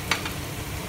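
Oxtail stew with tomato paste being stirred in a pot for a red wine oxtail stew, giving a brief scrape near the start and a second softer one, over a low steady simmering hiss.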